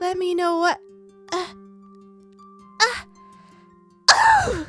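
Someone allergic to lavender lets out a sharp, loud sneeze at the end, following brief scattered speech and soft vocal sounds in a quiet room.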